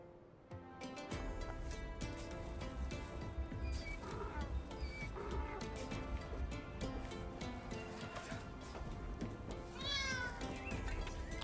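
Cats in the Pompeii: The Legacy game meow repeatedly over a steady, dense bed of game music, with several short rising cries standing out near the end.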